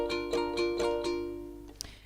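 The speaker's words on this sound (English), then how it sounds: "So the first one, we have just a plain down up strum." Ukulele played with a plain down-up strum for a ukulele lesson, a steady run of about six bright strums fading out at the end, close and alone.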